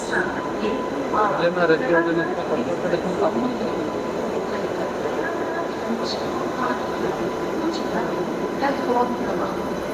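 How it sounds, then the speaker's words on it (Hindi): The Prayagraj Express rolls into a railway platform, a steady rumbling, clattering train noise with occasional squeals and hisses, while people talk nearby over it. "देखो लग रही है प्लेटफॉर्म पर आ गई है प्रयागराज एक्सप्रेस।"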